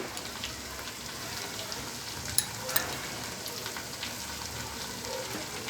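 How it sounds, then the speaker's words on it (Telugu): Andhra-style okra (bendakaya) fries over a low flame in a pan after chili powder goes in, giving a steady soft sizzle with a couple of small pops and no talking. "ఫ్రై చేసుకుంటూ ఉండాలండి."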